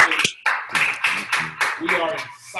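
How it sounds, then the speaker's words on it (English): Audience applause in a motivational seminar hall, a steady wash of clapping from a crowd, with a person talking loudly over it throughout. "Tell them to give themselves a round of applause."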